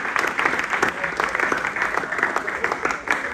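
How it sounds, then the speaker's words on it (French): A live comedy audience applauds at a stand-up sketch show, dense sustained clapping filling the room at close range, loud and steady throughout. "On applaudit ensemble."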